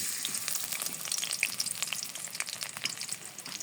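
Onions frying in a pan for a cabbage and tomato curry, a dense, crackling sizzle with fine popping bursts, steady and close without any voices.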